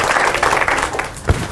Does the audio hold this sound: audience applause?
yes